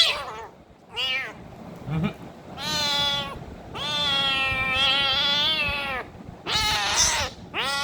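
A sick cat being given an injection meows loudly and repeatedly in long drawn-out cries, with short pauses between calls, close to the listener.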